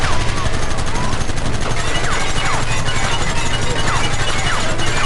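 Rapid gunfire in Red Dead Redemption, a dense fusillade of repeated shots and machine-gun bursts crackling close and loud across the whole stretch, with a steady low rumble beneath and no clear talk.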